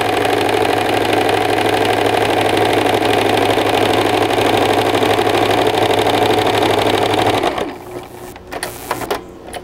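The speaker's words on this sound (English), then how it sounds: "we just sewed it straight down" A sewing machine runs steadily as it stitches a straight seam along a pillow for custom upholstery. The whirring is loud and continuous and breaks off near the end, where a few softer handling noises follow.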